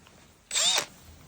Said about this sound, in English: we can also drill the screw bolts for this.